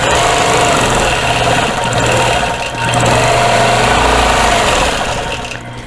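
A sewing machine quilting the border of a Dresden quilt runs close and loud with a continuous rapid mechanical hum and rattle, dipping briefly partway through before carrying on.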